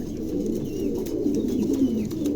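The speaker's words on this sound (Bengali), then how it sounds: "পাঁচ পিস কবুতর দেখেন" Several pigeons coo softly and continuously at close range, low rolling calls overlapping with one another, with no talking.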